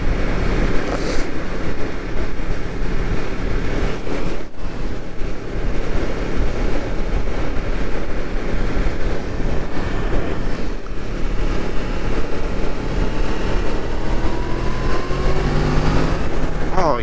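Yamaha MT-10 motorcycle on a test ride, its engine a loud continuous rumble mixed with heavy wind noise, holding steady throughout with slight rises in pitch toward the end.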